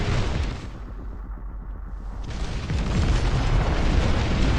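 Artillery in the strategy game They Are Trillions fires in a dense, continuous barrage of deep booms and blasts, loud and rumbling, easing briefly before building to a heavier sustained roar, with no voices.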